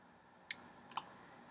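Computer mouse clicking twice during a Flash software lesson, two short, faint, crisp clicks about half a second apart in a quiet room.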